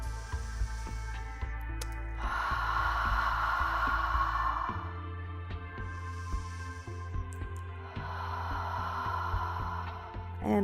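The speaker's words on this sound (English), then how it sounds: "Breathing." Slow, steady breaths during a resistance band yoga workout, with two long exhale swells a few seconds apart over a low hum and faint background music.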